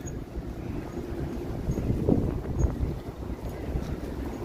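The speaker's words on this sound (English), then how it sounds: "too bad it's windy" Gusts of wind buffet the microphone on Yonge Street, Toronto, in the evening, a low rumbling roar swelling and easing, with faint street sounds beneath.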